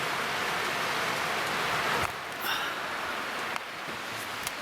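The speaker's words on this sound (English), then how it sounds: "It's early morning rain, guys." Steady early morning rain falling outside a camper at night, a dense constant patter with a few sharper drop impacts and no voices.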